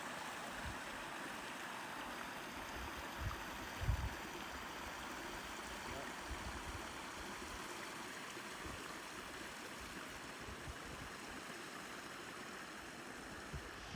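A mountain creek in Oregon's Strawberry Mountain Wilderness flows in a soft, steady wash, faint and continuous, with a few small knocks early on.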